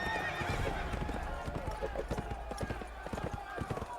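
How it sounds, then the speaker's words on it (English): Hooves clip-clop in a fast, steady gallop as a charging horse in The Witcher 2 video game thunders past, with a loud whinny among the hoofbeats and voices talking underneath. "That horse, like its rider, has weathered more than one battle."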